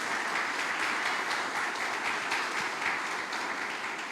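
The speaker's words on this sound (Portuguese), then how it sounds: "Você pode aplaudir ao Senhor por isso mais uma vez, em nome de Jesus." A church congregation at a Sunday service applauds steadily, a dense wash of many hands clapping at an even level throughout with no voices standing out.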